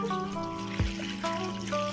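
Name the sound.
washing ber (jujube) fruits with water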